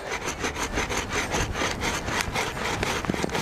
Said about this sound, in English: Make myself comfortable and start sawing.